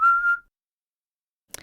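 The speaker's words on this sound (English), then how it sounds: "The last thing I heard was his whistling." A man whistles one short, steady note in a video game, clear and isolated, followed by silence and a brief faint clatter at the end.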